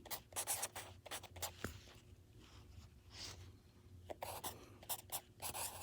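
A pencil draws on paper, sketching a circulatory system diagram of arteries, with close, scratchy strokes coming in irregular bursts and short pauses, no voices.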